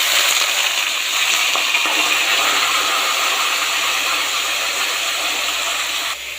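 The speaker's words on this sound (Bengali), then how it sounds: "এই যে আলু ভাজাটা হচ্ছে" Potatoes fry with onions in a pan that was seasoned with garlic and dried chilli. A loud, dense, continuous hiss of sizzling fills the whole stretch and cuts out abruptly at the end.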